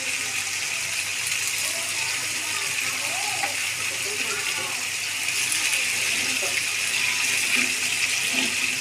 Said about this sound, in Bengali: তারপর দিয়ে দেবেন মাংসটা আপনারা একটু ধুয়ে নেবেন